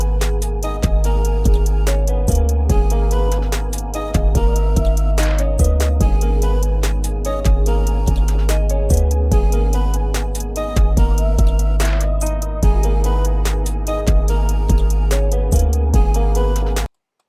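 A dark rap beat played back loud and steady, with booming low bass hits and sharp percussion repeating in a looped pattern, ending abruptly.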